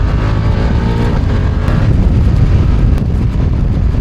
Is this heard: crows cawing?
no